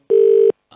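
A telephone keypad sends a single short steady electronic tone, loud and clean, as a number is dialled, followed by a brief faint blip.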